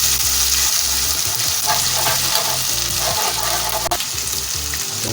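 Onion, garlic and ground spices frying and being stirred in a pan for aloo palak curry, a steady loud sizzle with occasional scraping, no voices.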